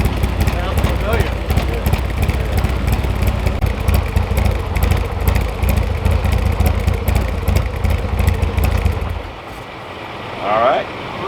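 Harley-Davidson Street Glide with louvered baffles fitted in its mufflers, a deep pulsing V-twin engine rumble running close and loud, then cutting off near the end, with someone talking over it.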